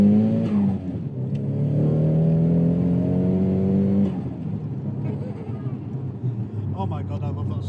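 The engine of an SR2002 project car revs up in a rising, whining sweep, loud and close, then drops back to a lower running note with a few more small blips.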